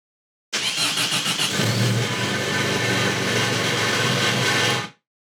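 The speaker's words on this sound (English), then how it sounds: "As you can probably hear, I need to fix this exhaust rattle." A car engine cranks and fires up, then idles roughly with a metallic exhaust rattle from a bent bracket, loud and close, running steadily for a few seconds before cutting off.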